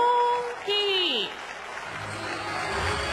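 Stadium crowd at ZOZO Marine applauding as pitcher Roki Sasaki takes the mound for the Marines, a broad sustained clapping wash under a commentator's voice, with a brief whistle-like tone sweeping through.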